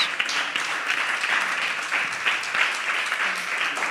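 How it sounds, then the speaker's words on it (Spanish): A church congregation applauds together during a Spanish-language sermon, the clapping thick, continuous and moderately loud with no pause throughout. "Den un aplauso al Señor."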